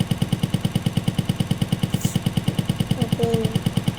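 A motorbike engine in the Ojol Life video game chugs at a steady idle-like pulse, with regular thumping beats throughout and a brief faint squeal near the end.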